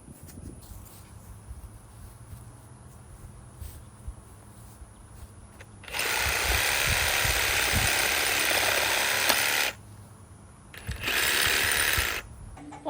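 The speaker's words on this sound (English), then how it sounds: "I'm gonna go get the jigsaw and cut this right now" A jigsaw cuts through a 1x2 wood board in a van build workshop, a loud buzzing rasp in two bursts separated by a short pause, following quiet handling noises.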